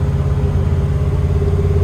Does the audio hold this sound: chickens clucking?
no